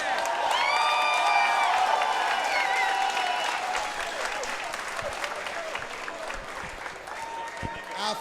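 A fight crowd at the FightersRep 21 event applauds and cheers for both fighters after a three-round bout, loud and sustained with scattered whoops, easing slightly toward the end, with a voice faintly present early on.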